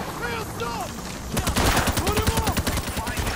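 Rapid bursts of automatic gunfire from the video game Payday: The Heist, loud and close, with dense repeating shots filling the second half after a quieter stretch of game sounds.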